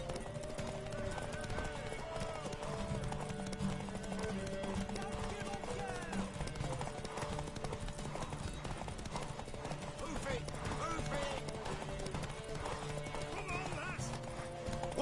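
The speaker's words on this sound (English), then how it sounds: "Want that horse, don't ya?" Horse hooves clip-clop steadily with a few neighs and whinnies in The Witcher 3: Wild Hunt, the sustained trot playing over a musical score with voices mixed in.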